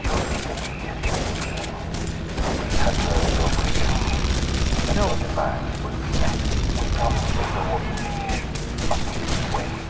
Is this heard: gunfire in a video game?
yes